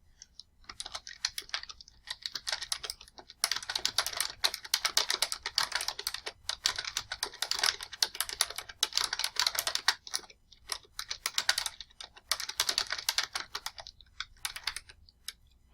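Rapid, steady keystrokes on a computer keyboard come in bursts of close, crisp clicks, with brief pauses between phrases and no speech.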